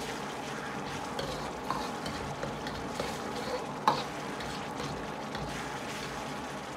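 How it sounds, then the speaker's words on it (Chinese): Tomatoes and enoki mushrooms stir-fried in a wok with oyster sauce and soy sauce, a steady close sizzle with scraping stir strokes and a sharper clink partway through, no voices. "继续翻炒，炒出酱香味。"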